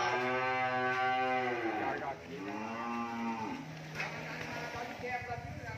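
Cattle at a cow farm in Mỏ Cày Bắc, Bến Tre, give several close, drawn-out moos one after another, with voices talking faintly in the background.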